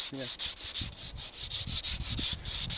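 Rust is sanded off a HEMA sword blade with 100-grit sandpaper in quick rhythmic rubbing strokes, about four per second, close and continuous.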